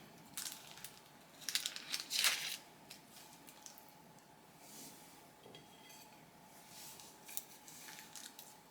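Knife cutting cooled, gooey layered Christmas bars into squares, giving faint scraping and clinking strokes in small clusters against a quiet kitchen background.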